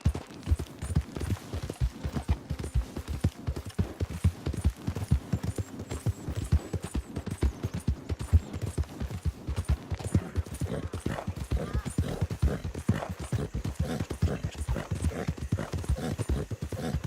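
A horse gallops in the video game Red Dead Redemption, with a fast, steady clip-clop of hooves that runs throughout. A brief whinny and a voice can be heard over the hoofbeats.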